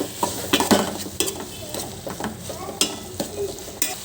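Boiled potato and crushed spices are stirred together by hand in a bowl while making pani puri at home, giving a close, uneven run of soft squelching, scraping and clinking strokes.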